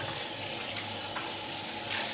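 Tap water runs steadily into a sink while a fresh grouper fish head is washed, a continuous close hissing splash with no voices.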